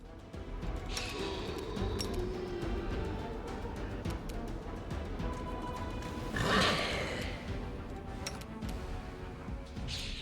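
Horse whinnying and hooves clip-clopping in the fantasy role-playing game Wrath of the Righteous, a steady mix of game sound with one louder neigh near the end.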